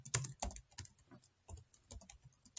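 Typing on a computer keyboard while entering data into a Microsoft Access database: a brisk, irregular run of close, crisp key clicks with no talking over them.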